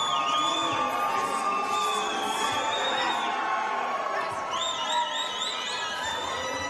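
Arena crowd at an MMA cage event roaring and cheering steadily as fighter Chris Lewis walks to the cage, with whoops and whistles rising over a dense, continuous wall of noise.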